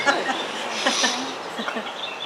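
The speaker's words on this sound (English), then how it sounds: "Those birds are amazing." Birds sing outdoors with quick chirps and twittering calls, moderately close, layered over a soft hiss of ambient background, with a few short accented notes scattered through.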